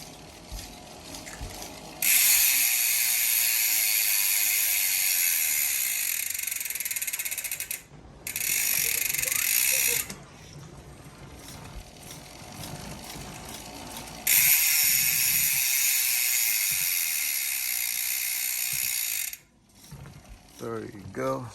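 Rapid, sharp ratchet clicking from an E*Thirteen LG1R freewheel hub on a 2019 Evil Offering mountain bike, loud and close in two long bursts separated by short pauses, with no talk.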